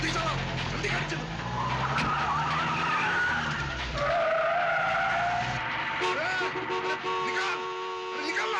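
Car skidding hard and pulling away fast in a tense Hindi film climax, tyres squealing over a loud engine roar amid dramatic music and shouting voices.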